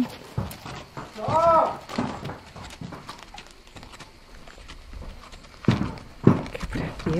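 A horse's hooves clip-clopping outdoors in summer at Gavilanes, with scattered hoof strikes and a short whinny-like call, while voices talk and call out excitedly over the sound.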